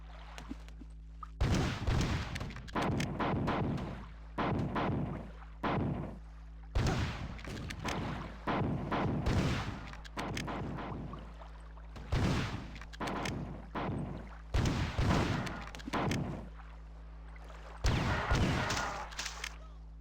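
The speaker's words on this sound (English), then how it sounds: "I love the explosions, which just lead to more explosions." Bursts of explosions and rapid gunfire from a video game, loud and repeated in clustered volleys with brief gaps between them, over a steady low background drone.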